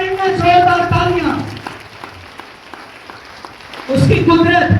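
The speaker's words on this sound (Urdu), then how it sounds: "تالیاں زوردار نہیں ہیں, زوردار تالیاں" A congregation in a church claps in a steady crowd patter, heard on its own in the middle, while a preacher's loud amplified voice opens and closes the stretch.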